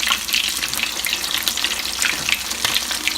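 Cheesy bacon poppers pan frying in oil, a dense, loud sizzle with frequent sharp pops and crackles throughout, close and without talking.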